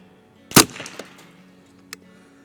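A single sharp gunshot fired at a can, near and loud, followed by a brief ringing tail and a small faint click about a second and a half later.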